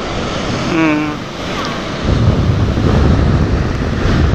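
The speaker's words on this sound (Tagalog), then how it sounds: "Yan, laki ng alon. Bunti na ako nahagip. Lakas ng agos. Oh, ang lakas ng hangin din" Strong wind buffets the microphone while big sea waves surge and crash near Fortune Island, a loud roaring wash that grows heavier midway, with a brief voice audible early on.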